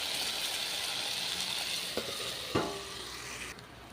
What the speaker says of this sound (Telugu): అదే బాణీలో కొంచెం ఆయిల్ వేసుకొని, అంటే ఇది పోపు కోసం అన్నమాట